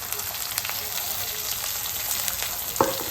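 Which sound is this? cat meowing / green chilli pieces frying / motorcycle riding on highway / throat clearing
green chilli pieces frying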